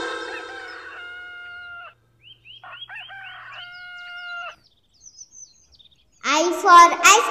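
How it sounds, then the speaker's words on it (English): Hen clucking and crowing calls in a cartoon nursery rhyme, clear and close, in short bursts separated by quiet gaps, with a louder run of clucks at the end. "H for hen."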